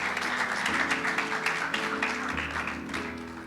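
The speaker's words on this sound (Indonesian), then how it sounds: "Berikan tepuk tangan bagi dia." A church congregation at a GBI Sport Centre worship service claps for Jesus. Sustained, dense clapping is heard over a low, steady musical hum, tapering slightly at the end.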